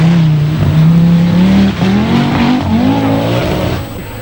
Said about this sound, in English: in appalling weather, Michelle Mouton leads the Lloyds Bowmaker Scottish Rally